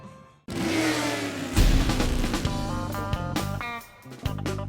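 A 1500 Honda Valkyrie six-cylinder trike engine revs up loudly and close by, rising and dropping in pitch with a throaty, steady growl.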